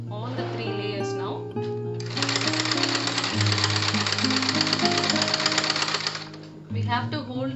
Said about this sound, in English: Now we are going to see how to stitch all these three sides and how to stitch diagonally.